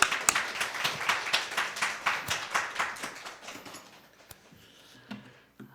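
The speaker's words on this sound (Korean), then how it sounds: "우리 큰 박수로 우리 선교사님 환영하겠습니다" A church congregation claps to welcome a visiting missionary. The clapping is rhythmic and fairly close, with steady repeated beats for several seconds before it thins out and stops.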